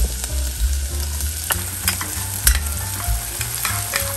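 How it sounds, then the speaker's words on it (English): Onions frying in oil and butter for lasagna, a loud close crackle with repeated metal scraping and knocks from stirring, no voices over it. "Then we're gonna fry the onions with oil and butter."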